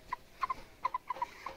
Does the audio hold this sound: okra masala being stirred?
no